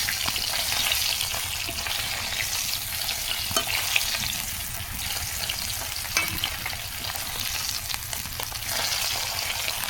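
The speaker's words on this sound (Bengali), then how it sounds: "এই যে মাছটা হয়ে গেছে, এখন উঠিয়ে নেব। মাছটা ভাজা হয়ে গেলে" Fish fries in a pan with a dense, continuous crackling sizzle, close and steady, broken by occasional sharper pops and light stirring, with no talking.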